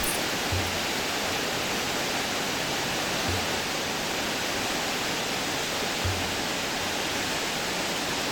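Brahmana Ella waterfall cascading through tall trees makes a steady, dense roar of falling water. It is even and unbroken throughout, with no voices.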